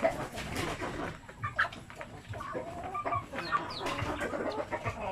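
Chickens cluck and chatter on a farm, a busy overlapping mix of short clucks and calls from several birds close by, with no talking.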